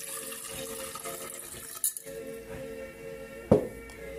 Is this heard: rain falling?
no